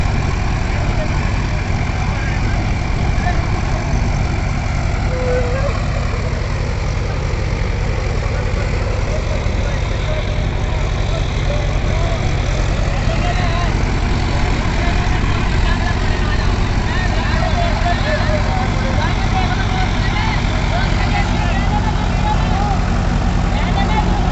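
A heavy Mahindra 575 tractor engine drones steadily and loudly throughout, a constant low rumble with mechanical clatter on top and no break.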